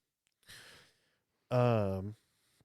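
A person yawns indoors: a breathy intake, then a louder, drawn-out voiced yawn lasting about half a second, close and alone in otherwise quiet surroundings.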